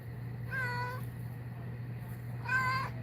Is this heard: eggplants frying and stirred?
no